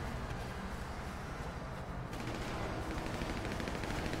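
Gunfire from hunters in the video game GTA V rattles in dense rapid bursts, a steady barrage of shots heard at a distance with no voices over it.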